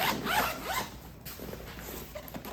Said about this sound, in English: So that is the compression zipper that goes around